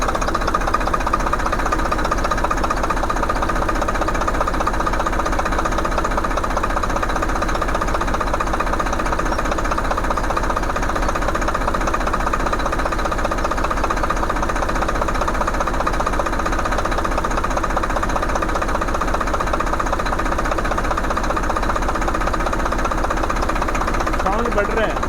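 A tractor's diesel engine idles steadily at close range while the fuel pump's lock nut is tightened, giving an unbroken, even rattling drone with someone speaking over it.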